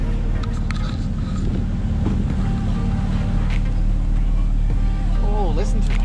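A Porsche 911 GT3 engine and exhaust drones steadily while driving, a loud low rumble filling the whole stretch, with people talking over it inside the car.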